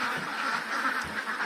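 A flock of ducks quacks steadily and at close range on a duck farm, their harsh, overlapping calls filling a brief moment.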